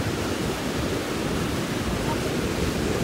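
Rushing river water in Mistaya Canyon, a loud, steady broadband roar that continues without a break.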